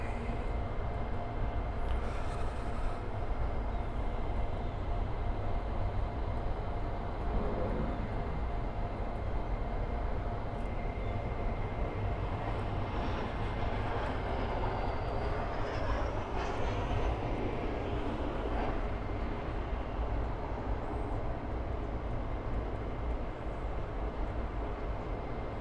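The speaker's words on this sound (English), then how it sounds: "And that's Surinam Airways 737-800 flying back to Georgetown." A Surinam Airways Boeing 737-800 jet airliner flies near a Miami airport, a continuous broad engine roar that holds steady and fairly distant for the whole stretch, with no talking.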